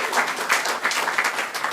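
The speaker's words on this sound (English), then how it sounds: "Round of applause." Comedy club audience at Go Bananas breaking into a short burst of applause, a dense, steady wash of many hands clapping with no talk over it.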